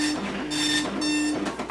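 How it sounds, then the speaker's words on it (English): An old printer hooked to an Atari Portfolio palmtop runs a print job, its buzzing print-head passes repeating in steady bursts of roughly half a second, fairly loud and close with no talking. "I'm going to let it print the whole thing because I want to give this printer some exercise."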